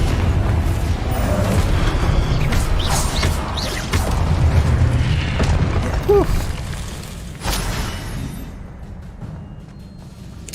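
A Confringo fire spell from the Hogwarts Legacy video game blasts amid a busy combat mix of booms and impacts, with game effects layered throughout and a fading tail near the end.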